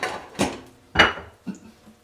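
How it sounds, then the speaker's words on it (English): A spoon scrapes and knocks against a pot while stirring Spanish rice, three or four short, close scraping clunks spaced about half a second apart. "Let's go ahead and stir that rice again"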